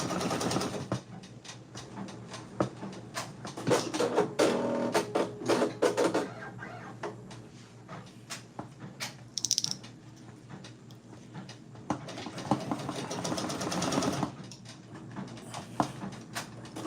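An embroidery machine stitching out a cherries patch, rapid rhythmic needle clatter running in bursts with brief pauses, close and steady, no speech.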